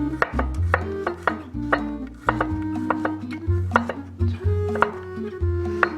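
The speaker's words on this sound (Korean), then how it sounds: "마늘은 네. 편으로 좀 썰어서 좀 잘라주시고요" A knife chops sliced garlic on a cutting board in a quick, irregular series of sharp, close taps, with no voices over it.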